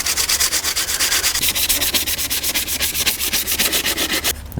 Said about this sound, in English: I'm putting a light sand on the face of this so that the paint has